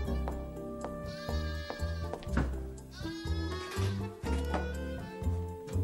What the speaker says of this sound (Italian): Dove hai preso quella pecora, Charlie?